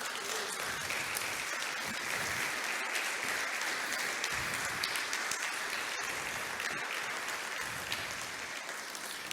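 A church congregation breaks into sustained applause during a sermon, a dense, even wash of many hands clapping at once, steady from start to finish with no talking.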